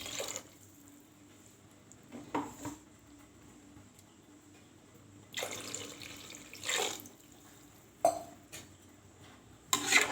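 Water runs from a tap in short bursts into a pot for vegetable pulao, with a few splashy pours separated by quiet gaps and faint clinks of cookware nearby.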